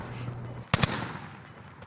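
Gunfire in a duos match of a shooter video game: a quick double burst of sharp shots lands in the middle, loud against a quieter background of game ambience.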